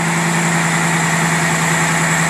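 Carbureted engine idling steadily while running rich with a block fitted, a constant close-up hum with a firm low drone and no talking over it.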